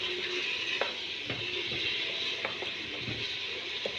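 A spoon stirs kabsa in a frying pan with chilli and corn, scraping in irregular strokes over a steady sizzle, close and moderately loud with no talking.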